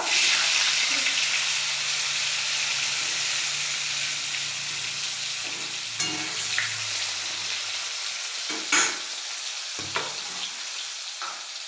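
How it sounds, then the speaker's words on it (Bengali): Potatoes fry in hot oil in a home kitchen with a steady, dense sizzle throughout, and a few light clinks and stirring knocks toward the end. No voices. "আলুগুলোকে তেলে ভেজে নেব।"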